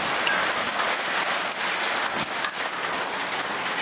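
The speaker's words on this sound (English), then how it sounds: "It is raining really hard." Heavy rain pours down on a Fourth of July night, a dense, continuous hiss of drops pattering on surfaces close by, steady and loud with no voices over it.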